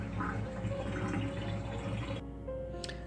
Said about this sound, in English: I'm going to fill it with clean water and rinse it